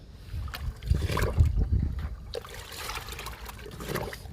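Chickpea cake liquid poured into a ten-litre bucket holding water, giving a steady splashing trickle up close that swells early and then settles into a softer continuous dribble.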